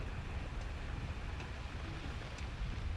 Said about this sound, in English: I'm pretty sure it's just the rain outside